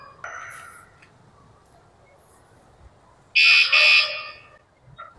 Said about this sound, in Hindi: तो इसने एक बार अलार्म बजाया है